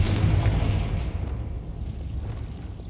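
A Confringo spell in Hogwarts Legacy lets out a loud, deep blast that booms and rumbles, then fades out over a couple of seconds with no voice.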